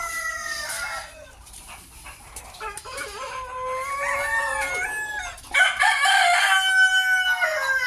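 Several roosters crow in overlapping, drawn-out calls after a typhoon, some nearer and louder than others, with occasional clucking and a dog faintly in the background.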